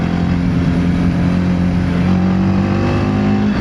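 A TVS Apache RTX 300 adventure motorcycle engine drones steadily while being ridden, a loud, even mid-pitched hum with strong low harmonics and no talking.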